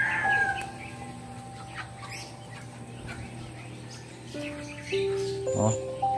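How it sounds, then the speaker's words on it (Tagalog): Chickens cluck and birds squabble and chirp in a rural provincial yard, with scattered calls near and far over a steady background. "Lagi nag-aagawan na yung mga ibon."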